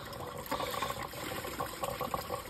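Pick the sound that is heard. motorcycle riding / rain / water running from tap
water running from tap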